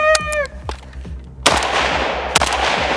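Rifle gunshots at a kneeling headshot drill on a range, loud sharp reports at close range: a quick cluster early, then single heavy blasts with long echoing decay.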